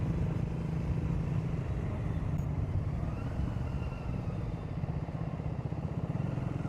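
Steady road rumble and engine drone while riding a Triumph Speed 400 motorcycle in peak-hour traffic on the Pollachi to Aliyar road, a continuous close, low roar with no clear breaks.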